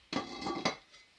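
A heavy lid clanks onto a small cocotte cooking pot, two or three close metallic knocks with a brief ringing decay, no voices.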